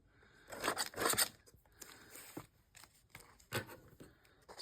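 Scissors snip through transparency film in a handful of close, crisp cuts, with a burst of crinkling in the first second and scattered single snips afterward.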